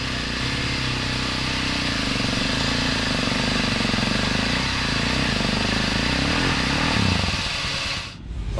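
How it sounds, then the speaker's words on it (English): A winch strains steadily to haul motorcycles up a slippery, wet dirt track, its motor droning continuously at close range until it cuts off near the end. "We're going to try and winch them up so we can get them up and out of the way"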